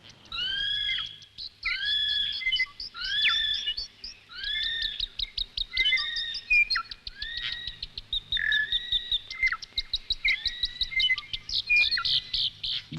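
Bright, repeated whistled phrases and chirps from birds in a New Zealand forest ring out close and clear, in bursts with short pauses between them, over a quiet background.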